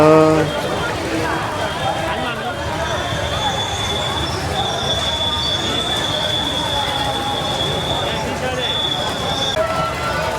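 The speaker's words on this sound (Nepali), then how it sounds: "नेपालमा आएको ड्रागन रेल भनेको यही हो" A busy fairground at a Sakela festival fair in Nepal with a dragon train ride rumbling and rattling along, a thin high whine running through, and crowd chatter and voices all around.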